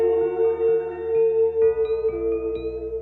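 A reconstructed Spinosaurus roar plays as a deep, sustained, droning growl with a throbbing low pulse beneath it. It grows heavier and rougher partway through and continues loud and unbroken for several seconds.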